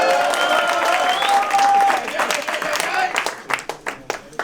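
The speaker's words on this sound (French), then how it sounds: "Vas-y, bah applaudis pour Noël, gros." A crowd at a French rap battle breaks into applause and cheering, loud and dense at first with voices shouting over it, then thinning into scattered individual claps.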